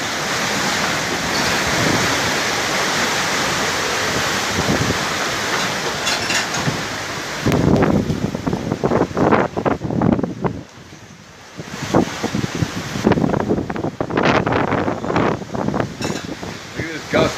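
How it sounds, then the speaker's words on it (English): Hurricane wind in Florida roars and howls in loud, sustained gusts that swell and surge, with rough buffeting against the microphone and a voice breaking in intermittently. "Look at this gust coming here"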